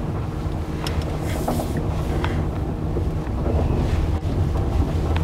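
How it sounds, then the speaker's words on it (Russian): Steady broadband road and tire rumble from a Lada electric car driving, with no engine note, heard from inside the cabin as a continuous even hum with a few faint rattles. "Только шум колес."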